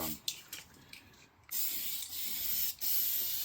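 Hissing bursts of an aerosol spray paint can coating a Tamiya Lunchbox model car body, a few short sprays followed by a longer steady spray with brief pauses, close by.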